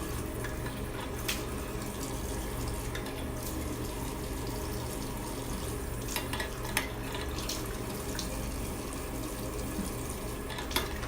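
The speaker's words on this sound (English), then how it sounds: "just rinse it one more time" A tap runs steadily while a face is rinsed of aloe facial cleanser, with faint splashes and drips breaking the soft, continuous flow. No one speaks over it.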